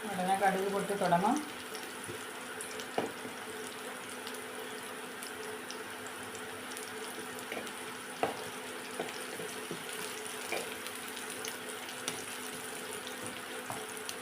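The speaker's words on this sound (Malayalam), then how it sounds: "കടുക് പൊട്ടുന്ന ശബ്ദം കേൾക്കാമല്ലോ" Mustard seeds crackle in hot oil while a jackfruit thoran is being made. A steady low sizzle runs throughout, broken by sparse, faint pops and clicks close by.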